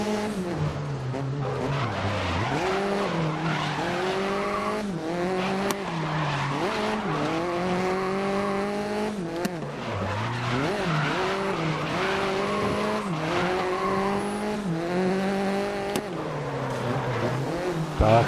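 Race car engine roaring through gear changes with repeated tire skids and squeals in the GRID racing game, a continuous loud run of rising and falling revs with no talk.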